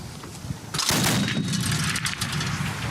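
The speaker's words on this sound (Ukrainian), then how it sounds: "Зараз у неї в руках ось такий здоровезний кулемет. Це ДШК" A DShK heavy machine gun fires short bursts at a range, the blasts loud and close, erupting suddenly after a quieter start and continuing as a dense, echoing roar.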